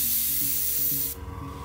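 An airbrush or spray can hisses steadily and close, laying black base coat onto Bandai Star Wars Y-Wing model parts, then cuts off abruptly, leaving a low hum.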